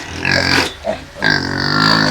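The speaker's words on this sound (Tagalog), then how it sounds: "Ayan na. Ayan, tatlo yung na-produce niyang na baboy." Native pigs on a farm grunt and squeal in two loud, close bursts separated by a brief pause, with no talk over them.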